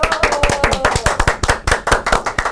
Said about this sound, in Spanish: vamos a dar un fuertísimo aplauso a la doctora Luz Ángela Tempos.